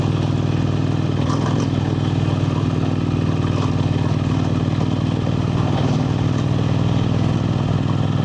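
Motorcycle riding along a mountain gravel road to the Korala Pass in Upper Mustang, its engine droning steadily and loudly throughout with a continuous rumble and wind noise.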